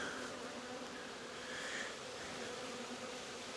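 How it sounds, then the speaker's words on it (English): Angry honey bees swarm around an opened hive during an apiary inspection of a queenless colony, their dense, steady buzzing droning on close and unbroken throughout. "because they are angry bees"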